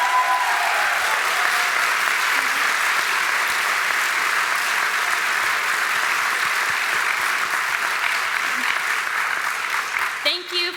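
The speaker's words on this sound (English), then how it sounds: "can you please give them a round of applause really quick?" A large commencement audience at Cal Maritime claps steadily for teachers, a dense, even round of applause filling the whole stretch without a break.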